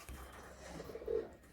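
Andhra pigeons coo softly in a short, faint, low burble that swells briefly near the end over quiet background hiss.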